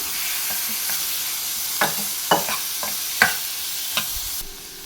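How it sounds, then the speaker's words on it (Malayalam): Tomatoes and masala sautéing in hot oil for a methi side dish, a steady close sizzle broken by several sharp scrapes and clacks of a spoon stirring the pan, with no voices. "ഇനി ഇതും കൂടി ഒന്ന് നല്ലതുപോലെ വഴറ്റിയെടുക്കണം."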